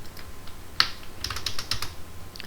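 Computer keyboard keys pressed while working in AutoCAD, a handful of close, crisp clicks spaced irregularly over a quiet background with no talking.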